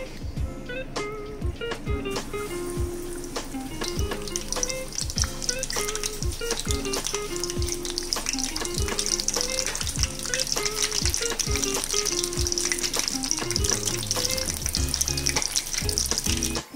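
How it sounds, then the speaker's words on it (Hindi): White pomfret fish deep frying in hot oil in a kadai, a loud continuous close sizzle and crackle with repeated clinks and sharp hits throughout, accompanied by steady tonal background music. "अब मैं इसके अंदर फ़िश को डाल के फ्राई करूँगी।"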